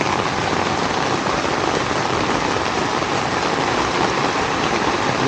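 A hard downpour of rain hisses on without pause, loud, even and near, with no talking over it.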